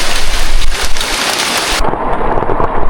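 Heavy rain pours down hard and close at an off-road event in General Nakar, Quezon, a dense steady roar with thunder-like rumble and no voices.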